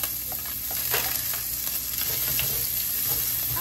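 Garlic sizzles in a little hot cooking oil, a steady close crackle and spatter with faint stirring, and no one speaking.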